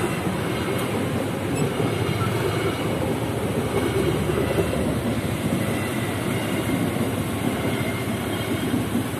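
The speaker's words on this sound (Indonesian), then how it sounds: "Kereta api Pangrango dari lokomotif TK26173 CPN dari Bogor." The Pangrango passenger train, pulled by a locomotive, rolls through the Fatima level crossing at Cisaat with a loud, continuous rumble and rhythmic wheel clatter that stays steady and close throughout.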